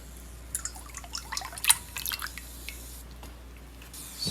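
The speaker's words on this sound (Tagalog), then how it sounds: "Buhos na natin yung whipping cream." Whipping cream is poured while making dalgona milk tea, heard as soft wet drips and squishy splashes, faint and intermittent with a brief louder splash near the middle.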